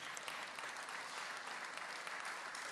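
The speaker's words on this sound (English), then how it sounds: "another round of applause" A crowd at a high school modernization celebration gives the builders a round of applause, a dense, even roar of many hands clapping heard from some distance, steady for the whole stretch.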